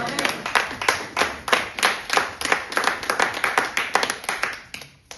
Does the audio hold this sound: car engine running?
no